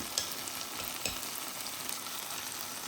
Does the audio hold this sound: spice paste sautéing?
yes